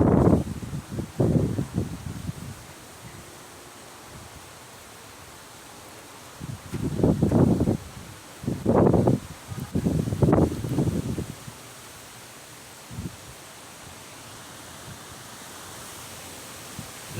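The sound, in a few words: wind gusts from Tropical Storm Idalia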